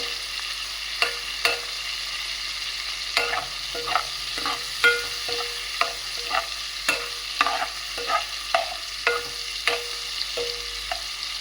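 Prawns and ladies fingers fry in a pan under a steady soft sizzle, punctuated by a dozen or so sharp spatula scrapes and taps at an irregular, unhurried pace. Nobody speaks.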